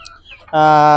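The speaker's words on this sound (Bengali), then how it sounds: "এই যে দেশি মুরগি আছে এখানে দেখেন রাখা আছে, এখানে ফার্মি মুরগি রাখা আছে" Domestic country chickens and farm-bred hens kept in pens make a loud, close, sustained call after a brief moment of quieter bird sounds.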